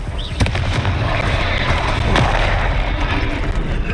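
A Confringo fire spell goes off in Hogwarts Legacy, a dense, booming blast with a continuous roaring rumble that stays loud for the whole stretch, along with a few sharper bangs.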